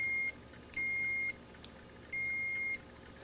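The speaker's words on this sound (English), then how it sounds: "you can see that it beeps, and you even get a red light" A GLADTOP digital multimeter gives two clear, high electronic continuity-test beeps, each lasting about half a second, close by with a short gap between them, plus a couple of tiny clicks.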